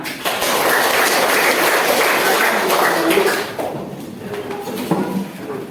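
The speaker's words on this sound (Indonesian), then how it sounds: "Dan tepuk tangan." In a classroom, children clap together in a dense burst for about three seconds before it thins out. Faint voices and small taps follow.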